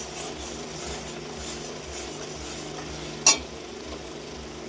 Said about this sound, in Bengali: এটাকে কষিয়ে নিতে হবে ভালো করে, হালকা জালে করতে হবে এটা।